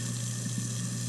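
Water runs steadily from a kitchen sink faucet, a constant rushing stream with a low mechanical hum underneath, close and unbroken, with nobody speaking.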